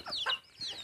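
Village chickens cluck in a short burst of high, close calls, two quick clucks followed by another after a brief pause.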